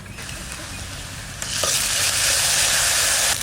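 Paste of cumin, ginger, dried chilli and mustard hitting hot oil in a pan, a soft low simmer that bursts into a loud, bright, sustained sizzle partway through, close and with no voices.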